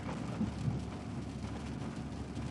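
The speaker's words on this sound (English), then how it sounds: "I had no intention of driving into any rain really, but it expanded, kind of kicking west a little bit, so it kind of put me in it." Rain falls during a thunderstorm, heard from inside a moving car as a soft, steady hiss over a low, continuous rumble. The sound is quiet and even throughout.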